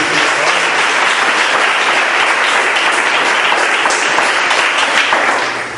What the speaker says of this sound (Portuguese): Bate as palmas aí forte para Deus.